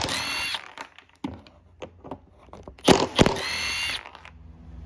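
Power drill backing screws out of an LG washing machine's plastic outer drum, several short whirring bursts separated by pauses and ratcheting clicks, loud and close, no talking.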